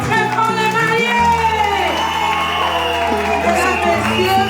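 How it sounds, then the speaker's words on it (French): Wedding guests in Congo Brazzaville cheering and whooping for the newlyweds, a loud crowd roar mixed with shouts over steady, booming music. "Applaudissons très fort les mariés."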